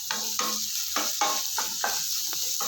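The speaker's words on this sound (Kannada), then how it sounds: "ಚಿತ್ರಾನ್ನ ಮಾಡೋಣ ಅಂತ ಒಗ್ಗರಣೆ ಹಾಕ್ತಾಯಿದ್ದೆ" Tempering spices crackle and sizzle in hot oil for chitranna, with short bursts of spluttering and stirring scrapes recurring every half second or so, close and clear with no talking.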